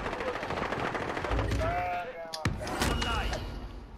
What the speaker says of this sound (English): I'm getting shot from my left.